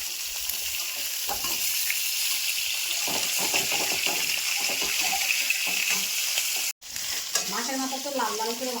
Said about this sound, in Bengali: মাছের মাথা এক ফিট ভাজা হয়ে গেছে আর এক ফিট আমি উল্টে দেবো